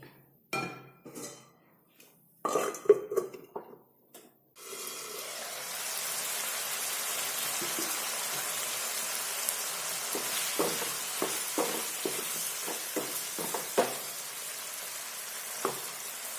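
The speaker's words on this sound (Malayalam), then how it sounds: "നന്നായിട്ട് ഇളക്കിയിട്ട് ഇതൊന്ന് അടച്ച് വയ്ക്കുക." Potatoes in a pan for aloo palak are stirred with a few clattering scrapes. Then a steady, fairly loud sizzle runs on with scattered soft clinks once the pan is covered.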